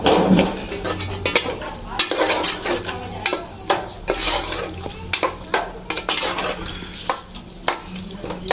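Tomatoes and green chilies frying with garam masala in a pan, a loud continuous sizzle broken by repeated scraping and stirring strokes of a spoon against the metal, close up.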